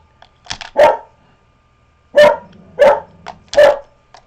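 Dogs barking indoors, close and loud: one short burst, a pause, then three spaced barks in steady rhythm, with no talk over them.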